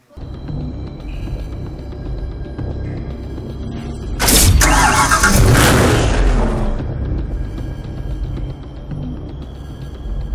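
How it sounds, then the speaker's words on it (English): Dodge Challenger SRT8 muscle car in the racing game Need for Speed Hot Pursuit, a steady low engine drone that swells into a loud, bright roaring burst midway before settling back to a rumbling idle. "the Dodge Challenger SRT8, manufactured at Chrysler's assembly plant in Ontario, has unmistakable looks with ground-shaking performance."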